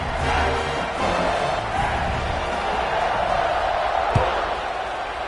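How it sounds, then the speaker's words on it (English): A stadium crowd buzzes in a simulated football video game, a steady broad roar filling the whole stretch, with one brief thump near the end. "this crowd is buzzing after that last score"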